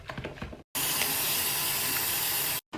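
Water from a tap runs in a steady loud hiss for about two seconds while it rinses soap and slime from a girl's hair, with brief quiet handling sounds before and after.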